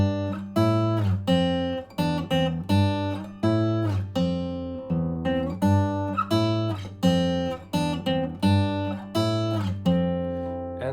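Close, solo acoustic guitar plays the full riff from a song, a repeating pattern of bright plucked and strummed notes with a steady, driving rhythm, with no talking.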